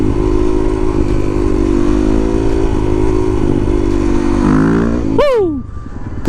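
A supermoto motorcycle engine drones loud and close during a wheelie, holding steady before a sharp rev near the end, which then drops away quickly.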